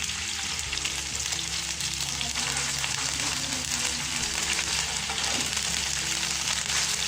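Ginger garlic paste sizzles and fries steadily in a hot pan, a dense continuous crackle with faint stirring underneath, loud and close with no voices.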